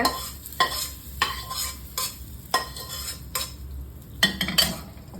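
Mustard seed tempering with asafoetida poured into cooked sorrel greens (puliche keerai) and stirred, giving repeated scraping stir strokes with a light sizzle, close and alone with no talk.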